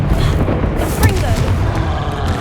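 A fire-blast spell bursts in Hogwarts Legacy, giving one deep boom roughly midway through a dense, continuous wash of battle noise, with game voices mixed in.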